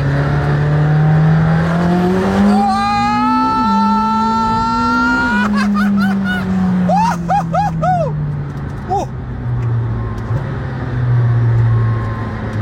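A McLaren Senna engine revs hard and climbs in pitch through a strong acceleration, pausing briefly between gears, then settles into a steady high-speed drone, loud and close.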